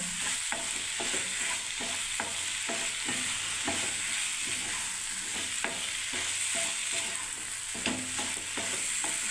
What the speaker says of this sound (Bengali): একটু আলু দিয়ে দিই বন্ধুরা।